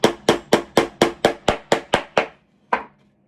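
A hammer drives a nail into a small wooden craft house with ten sharp, evenly spaced blows in quick rhythm, then a short pause and one final strike, loud and close.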